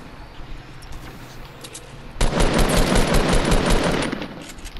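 Gunfire erupts from behind in a shooter video game: after a quieter stretch, a loud, sustained burst of rapid automatic fire rattles for about two seconds before easing off.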